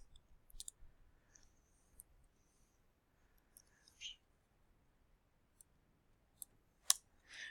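Scattered faint key clicks come from typing a short equation on a calculator or keyboard, isolated taps spread across a quiet background.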